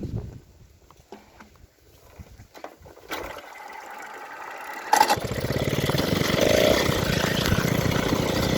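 A Peugeot 103 moped engine starts up and settles into a steady, buzzing run after a few seconds of quiet handling noises, loud and close throughout the second half.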